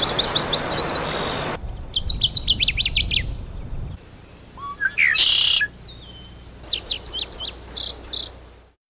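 Several wild birds chirp and sing in bright, quick trills and separate twittering phrases, loud and close, with short pauses between calls and no voices.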